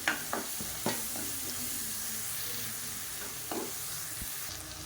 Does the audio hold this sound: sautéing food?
yes